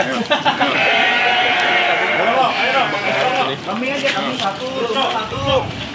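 Sheep bleat repeatedly at a livestock farm stocking goats and large sheep for sacrificial sale, the close, loud calls overlapping with people talking throughout.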